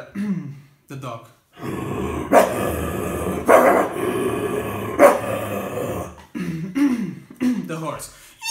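A voice imitates a dog with growly, throaty barks and grunts, several rough bursts in an uneven rhythm, close and loud, broken by brief pauses.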